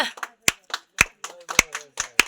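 People clapping at a wedding in a loose, uneven rhythm, with several sharp, close claps standing out over softer ones.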